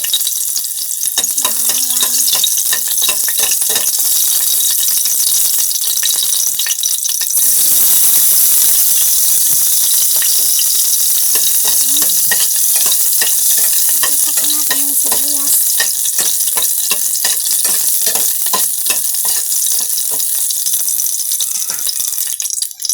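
Garlic sautéing in a hot pan, a steady loud sizzle and frying hiss with repeated stirring and scraping of a utensil throughout, no voices.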